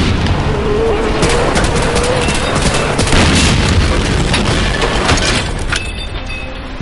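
Heavy cannon fire in the World War II shooter Medal of Honor Allied Assault, a dense continuous roar of loud booms and blasts throughout, tapering slightly near the end.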